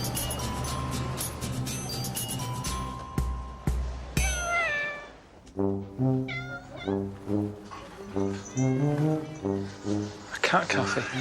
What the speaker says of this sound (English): A cat cafe. You pay to come and pet cats.